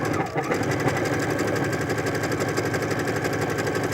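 A cover stitch style sewing machine stitches buttonholes at a steady fast rhythm, a close, continuous mechanical whir with even pulsing and no voices over it.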